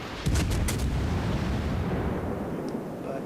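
Naval guns boom in a warship video game, a cluster of heavy reports near the start followed by a rumbling, sustained roar of battle that slowly fades.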